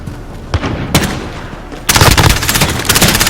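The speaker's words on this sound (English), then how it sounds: "Gunshot." A few scattered gunshots crack out in Call of Duty: Modern Warfare, then a rapid, sustained burst of automatic gunfire follows, loud and close, with the sharp tone of game audio.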